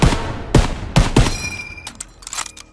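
Gunfire in Call of Duty WW2, with an M1 rifle in use: four loud, sharp shots about half a second apart, followed by fainter scattered bangs and a short ringing tone amid background combat.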